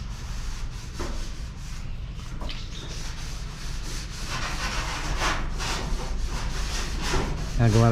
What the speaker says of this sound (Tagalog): Gumamit tayo ng liya para pagtanggal ng ano, ng kalawang.